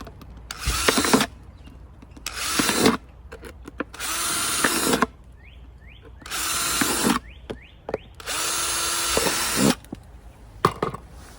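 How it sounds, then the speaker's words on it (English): A power drill bores holes in a hard clear plastic bottle in six short, loud bursts, with brief squealing and handling noises between them. "The drill is the best way."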